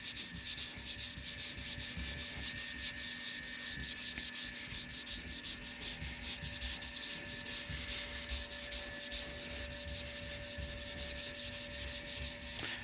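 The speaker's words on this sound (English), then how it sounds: "all we got to do is sand till that vanishes, and that will give you a perfectly flat surface." Rhythmic hand sanding of 2K urethane high build primer on a repaired wheel arch of a 2008 Ram, a steady close scratchy rubbing stroke after stroke with faint tonal hum behind it and no voices.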